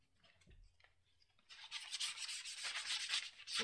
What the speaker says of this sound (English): we're going to sand the back side of that just a little bit